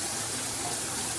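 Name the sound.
water spraying from a rain shower head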